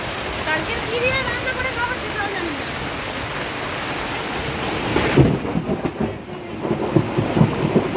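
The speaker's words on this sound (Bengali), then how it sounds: "দেখছো কেমন আকাশে বিদ্যুৎ চমকাচ্ছে" Heavy rain pours down in a steady roar during a thunderstorm from Cyclone Remal, with low rumbles of thunder swelling midway and a faint voice briefly audible early on.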